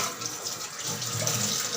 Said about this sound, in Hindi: और हैंड्स मैं धो लूँगी